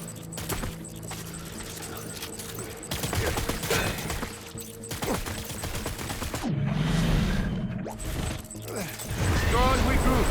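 Bursts of gunfire in the Death Stranding video game, crackling volleys scattered through a busy battle mix with voices and other effects around them.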